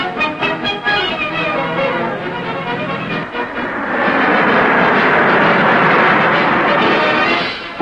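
Navy fixed-wing aircraft fly off the carrier HMAS Melbourne bound for a shore base south of Sydney, a loud steady engine roar that swells and thickens midway as the planes take off, with no voice over it.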